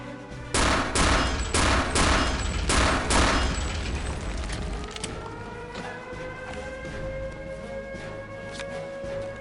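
Gunfire in the video game Return to Castle Wolfenstein: a loud, rapid string of about eight evenly spaced shots, followed by quieter game sounds and a rising tone.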